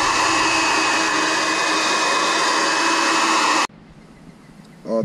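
Silver streak spray paint hissing steadily from an aerosol can onto an RC car body, a loud continuous broadband spray lasting several seconds before cutting off abruptly, followed by faint background noise and a brief sound at the end.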